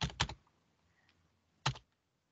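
Quick bursts of key presses on a computer keyboard, a short cluster of clicks, a pause, then one more brief flurry, close and fairly quiet with no talking.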